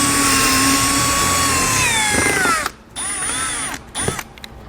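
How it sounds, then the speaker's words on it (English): A power drill with a 3/16-inch bit whines loudly and steadily, its pitch sagging as it drills out metal rivets on a 2017 Jeep Grand Cherokee, then stops and restarts in short bursts. "We're going to use a 3/16 drill bit to drill out the rivets."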